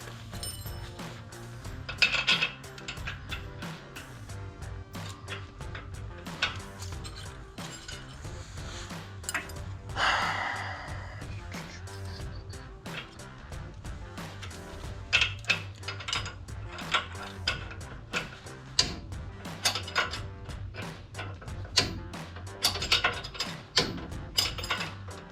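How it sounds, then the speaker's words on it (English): Bolt being tightened on a JKS Manufacturing Quicker Disconnect sway bar link on a Jeep Gladiator JT, with a 9/16 Allen wrench holding the link. Repeated metallic clicks and clinks come close up over a steady low hum, alone without talk. "I'm going to be using that to hold it while I tighten the bolt"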